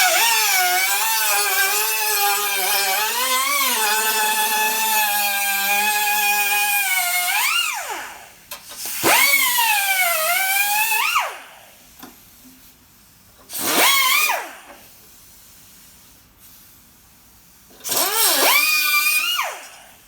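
A power saw cuts back a body panel on a Chevy pickup truck, whining loudly and steadily at first, then in three separate shorter bursts with quiet gaps between them.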